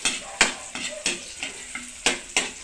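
Garlic browns in a pan for chicken tinola while being stirred, a run of sharp scraping clinks of a utensil against the pan over a soft sizzle, repeating every few tenths of a second, close and moderately loud.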